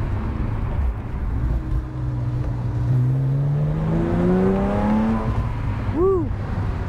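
A Hartech-built 4.1-litre engine in a 2009-era Porsche Cayman revs hard on a race track, pitch climbing steadily through the gears with a loud, sustained wail, then a quick blip of throttle near the end.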